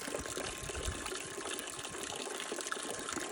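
Water flows steadily from a newly drilled well, a continuous close gushing splash into a bucket with no voices.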